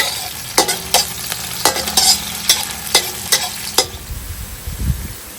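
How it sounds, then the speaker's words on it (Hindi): Chopped onions dropped into hot cooking oil in a pan outdoors in a backyard, sizzling steadily while a spoon scrapes and stirs in a series of sharp, regular strokes, close and fairly loud. "अब इसमें डाल दूंगी प्याज।"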